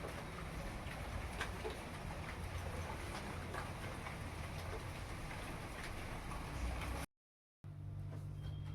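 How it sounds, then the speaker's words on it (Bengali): Light drizzle falls on banana leaves as a steady, even patter and hiss that continues unbroken, with a brief gap of silence near the end. "এই যে 10টার পরের থেকে ঝিরঝির করে বৃষ্টি পড়ছে"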